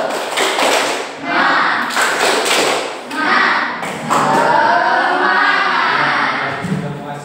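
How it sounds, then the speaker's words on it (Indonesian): A school class does a rhythmic spirit clap, loud, close hand claps in patterned bursts separated by short pauses, with voices calling along. "Tepuk semangat."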